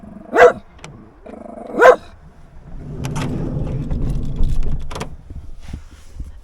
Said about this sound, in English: Dog seems to think that every time I open the door he's got to bark.